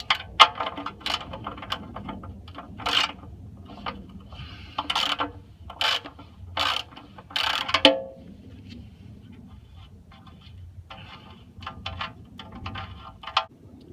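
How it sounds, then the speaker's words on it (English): Ratchet with a 17mm socket loosening a vehicle's oil drain plug during an oil change, heard as bursts of close mechanical clicking separated by short pauses, ending in a run of faint rapid clicks. "So we are using our ratchet and our 17mm socket."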